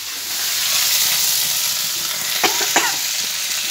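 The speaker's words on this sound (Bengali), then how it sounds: "মাছটা ভাজা হচ্ছে।" Fish frying in a pan gives a close, steady sizzle, broken by two short clatters of a utensil stirring about halfway through.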